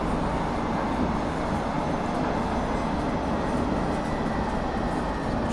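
A London Underground Metropolitan Line train in Train Simulator Classic runs steadily on the 07:35 Chesham to Aldgate service, with a loud, constant rumble and rail roar and no voices.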